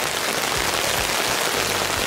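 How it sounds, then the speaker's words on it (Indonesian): Steady rain drums on the surface of a tent pitched in front of a house, a dense, even hiss of many drops close by, with no talking. "Padahal hujan loh."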